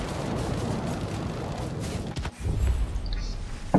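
Gunfire and heavy cannon bursts crackle through the roar of an F7F fighter attacking B-17 bombers in a flight video game, a dense rumbling barrage with sharper impacts near the end.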